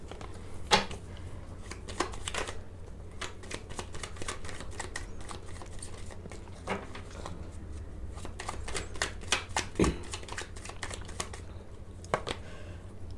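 Tarot cards are shuffled by hand during a reading, a steady run of soft riffling flutters and light slaps repeating close by at a quiet level, with no talk over them.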